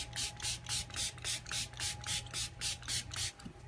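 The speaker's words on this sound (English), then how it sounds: "So all you have to do is spray it with water." A spray bottle mists water over an unsealed chalk paste transfer in about nine quick, evenly spaced squirts, each a soft hissing burst, with a faint steady hum underneath.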